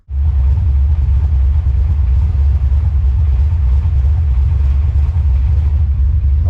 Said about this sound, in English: Right, let's see if this thing will fire up.